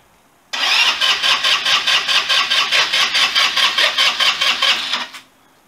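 A Chinese GY6 scooter engine cranks on the starter in a near, loud run of rhythmic whirring pulses, about twenty even beats over roughly four and a half seconds, then stops without catching.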